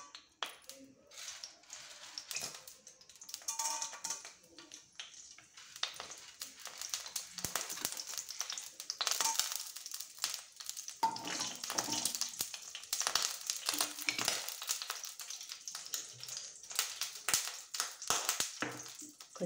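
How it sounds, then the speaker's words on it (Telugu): Chana dal and urad dal frying in a kadai, a steady crackling sizzle with frequent sharp pops and taps throughout, fairly close and continuous, with a little speech in the background. "ఇలా బాండి పెట్టి ముందుగా వీటిలో శనగపప్పు, మినపప్పు వేసి వేస్తాం."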